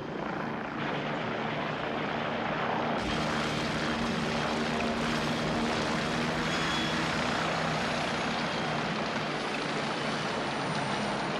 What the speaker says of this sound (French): Voilà votre hélicoptère.